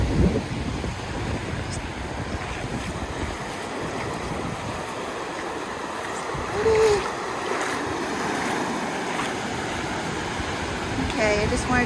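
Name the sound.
beach waves and surf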